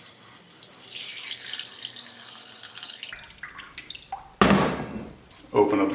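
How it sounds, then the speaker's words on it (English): A container is filled with water from a tap in a workshop, hissing flow with gurgling that changes pitch and stops and restarts, with spoken words mixed in. "We're going to fill this up with water."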